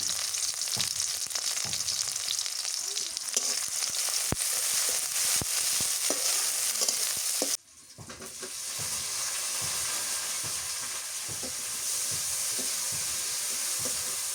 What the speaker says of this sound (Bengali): পেঁয়াজ কুচি দিয়ে দিই। কাঁচামরিচ দিয়ে দিই।